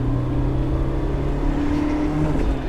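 A BMW E30 M3 engine pulls steadily in third gear while driving, a continuous close drone with a steady low hum and faint whir that holds evenly throughout, no voices over it.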